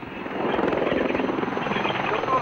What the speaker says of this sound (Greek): βλέπουμε τα, τα ελικόπτερα και αεροσκάφη πετάνε